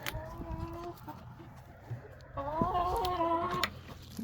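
Backyard roosters and chickens clucking and calling in a coop on a cold winter day, a couple of drawn-out tonal calls rising above soft background shuffling, fairly close and moderate in level.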